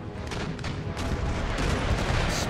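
Ship cannon broadside from round shot in Empire Total War, a dense continuous rumble of overlapping heavy booms in a naval battle, loud and sustained.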